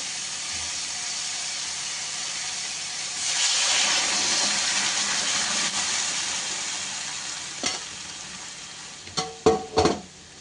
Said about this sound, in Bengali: এবার একটুখানি নেড়ে নিলে কাঁচা গন্ধটা চলে গেল